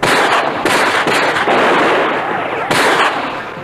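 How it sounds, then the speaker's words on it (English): An Uzi fully automatic submachine gun fires in a movie trailer, loud dense bursts of rapid shots with brief gaps, mixed with other action sound effects. "This is called an Uzi. That's a fully automatic submachine gun"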